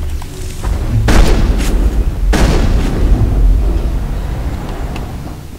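A sniper rifle fires in the video game Mass Effect. Two heavy, booming shots land about a second apart over a constant low rumble of game ambience.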